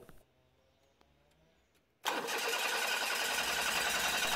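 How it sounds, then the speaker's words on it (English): A Mitsubishi Minicab with a weak fuel pump is cranked during a fuel pressure test: after a quiet stretch with faint ticks, a loud, steady broadband engine sound abruptly starts and continues close up to the end. "Just crank and see the fuel pressure."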